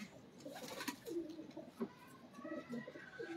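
A pigeon coos softly in repeated low burbling phrases, fairly close, with faint background rustle.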